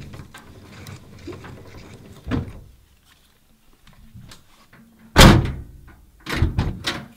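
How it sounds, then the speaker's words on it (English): A 1970 Pontiac LeMans window crank makes a few mechanical clicks and a ratcheting turn, then a sharp thump and a short burst of clunks, close by with quiet pauses between. "Window cranks on, everything works."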